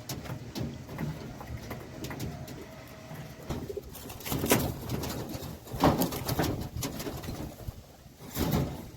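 Low coos of sick pigeons, some unable to fly well, come and go amid scattered rustling and thumps of handling and medicating close by, fairly quiet overall.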